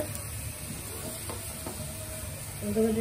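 Ginger paste and garlic sizzle in a pan of browned onions, a soft, steady hiss of frying with faint stirring scrapes and a brief rise near the end.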